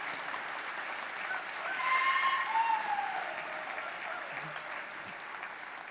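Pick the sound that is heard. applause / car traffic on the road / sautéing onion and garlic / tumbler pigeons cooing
applause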